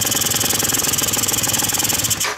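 A Quantum RS two-stroke engine idling evenly with a rapid, steady, regular chatter that holds a constant pace, loud and close, cutting off abruptly near the end.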